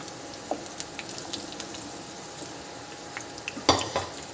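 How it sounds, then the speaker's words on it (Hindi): Okra (bhindi) goes into a pan of hot oil for dhaba-style masala bhindi, with a faint sizzle, scattered light clinks and taps, and one louder clatter near the end, close and without voices. "अब हम इसके अंदर दूसरी भिंडी डालेंगे"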